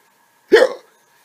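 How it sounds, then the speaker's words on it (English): A single sharp human hiccup, one short voiced gulp that starts abruptly and fades within a fraction of a second, close and fairly loud, with silence before and after and no talking. "Hiccups."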